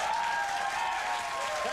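A studio audience at a Dave Chappelle interview breaks into brief, dense applause mixed with cheering voices, loud and close.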